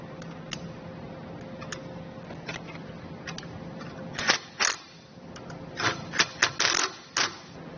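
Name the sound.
zip tie being ratcheted tight on wiring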